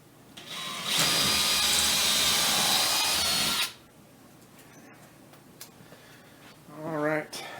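A power drill whirs loudly and steadily for about three seconds as it drives a screw into an oak drawer, then stops; faint workshop handling noises and a brief whining tool burst follow.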